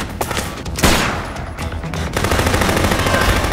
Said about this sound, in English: Shooting, the basis of any game worth its zombie weight in pus.